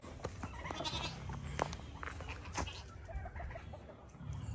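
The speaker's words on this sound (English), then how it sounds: "Look at all those chickens." Chickens cluck and squawk in short bursts around a farmyard with a turkey, bleating animals mixed in and occasional sharp calls, moderately close.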